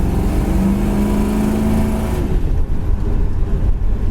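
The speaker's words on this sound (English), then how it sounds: "It's got nice sounding dual exhaust." A 1969 Nova SS with a big block engine and dual exhaust idles loudly up close, a deep steady rumble that surges into a brief rev and then settles back to a lumpy idle.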